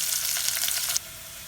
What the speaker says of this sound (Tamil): வெங்காயத்தை போடுறேன். வெங்காயம் வதங்கட்டும் பார்ப்போம்.